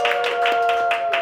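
Quick, steady claps repeat at a brisk rhythm from a small game show audience at a live comedy event, sounding fairly close and clear with a sustained tone underneath.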